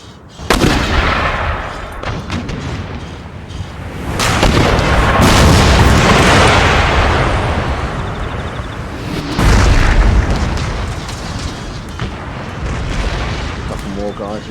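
Artillery guns firing during a siege of Brussels in Empire: Total War, repeated heavy booms and rolling blasts swelling and fading over the scene, with someone talking at times over the gunfire.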